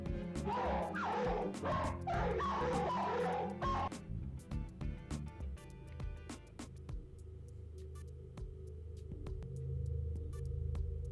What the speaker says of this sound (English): The dogs seem very upset about something as they continuously bark from within their crates.